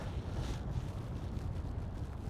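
Strong wind buffeting the microphone out on Foss Lake, Oklahoma, on a stormy day with rain and thunderstorms around, a steady close roar of gusts with no voices.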